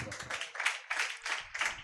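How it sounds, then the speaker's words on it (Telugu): A church congregation clapping loudly in quick, rhythmic bursts of sharp claps, evenly paced and close, with no talking over it. "గట్టిగా చప్పట్లు కొట్టండి."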